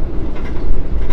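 A KRL commuter train is overtaken by an Argo Semeru train, with a loud, steady rumbling roar of rolling wheels and rail noise that fills the scene continuously and close by, without any voices.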